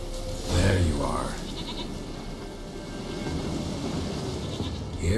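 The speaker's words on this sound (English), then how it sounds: "Here, goat." A goat in The Witcher 3 gives a short bleat near the start, heard over a steady outdoor game ambience with some low rumbling.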